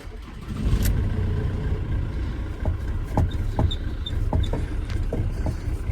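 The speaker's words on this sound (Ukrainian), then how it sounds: "Сейчас попробуем завести ее" Ford Transit 2.0 TDCI van from 2006, with a soft clutch, cranking and starting, the diesel catching and running with a steady mid-range rumble and repeated sharp knocks, close up with no talk.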